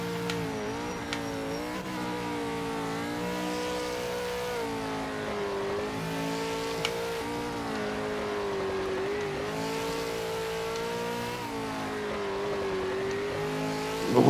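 A V8 Supercar in the racing game PMR with its engine roaring at high revs, a continuous up-close drone that rises and dips through gear changes and ends with a louder surge.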